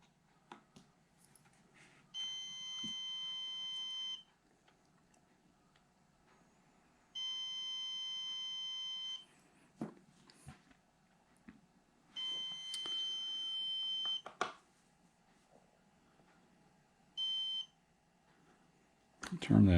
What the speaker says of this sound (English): Should give me some long beeps since there aren't any charges hooked up